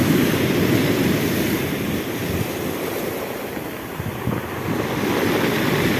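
Sea waves wash steadily onto a pebble and sand beach in Abkhazia, a continuous loud surf roar with gentle swells and light wind buffeting the microphone, no voices.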